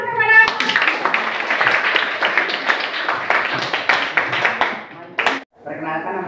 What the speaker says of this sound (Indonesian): kita beri aplaus kepada